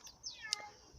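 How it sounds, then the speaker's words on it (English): A house cat gives a short, faint meow close by indoors, a single drawn-out call followed by a brief rustle. "apologies, my cat is following me"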